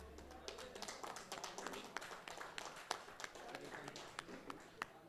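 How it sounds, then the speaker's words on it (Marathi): Scattered, uneven handclaps from an audience at a cricket trophy prize-distribution ceremony, sharp individual claps rising and falling over background murmur at moderate distance. "टाळ्या वाजवायचे आपण"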